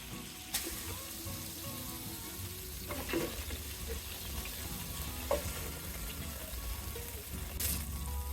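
Shol fish sizzles steadily in hot oil, a dense continuous crackle close by, with a few soft clicks and light utensil taps scattered through.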